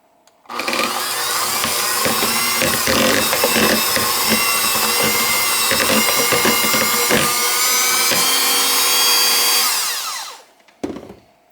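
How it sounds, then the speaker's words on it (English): An electric hand mixer creams gingerbread cookie bar batter in a bowl, its loud, steady whirring grind running for about ten seconds before cutting off, followed by a brief clatter. "I'm just going to go ahead and mix those until they're creamy."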